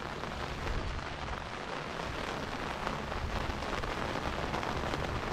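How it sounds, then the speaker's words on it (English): Rain coming down at a botanical garden near the greenhouses, a steady broadband patter with a constant rushing hiss, moderately loud and unbroken, with no talking. "you can see the rain is definitely coming down."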